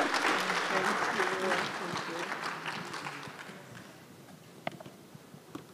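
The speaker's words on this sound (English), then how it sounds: "so kindly let the applause be loud." Audience applause at an international e-learning conference, a dense sustained clapping from a large crowd that tapers off over several seconds, with a few scattered late claps at the end.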